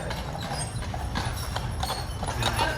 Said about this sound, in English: Oh, look, here comes a horse.